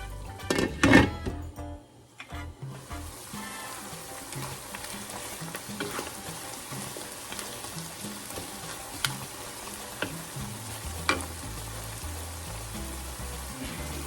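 Pork simmers under a lid in a pot for Filipino pinakbet, a steady soft bubbling sizzle running throughout, with a clink of the lid and utensil at the start and occasional faint knocks.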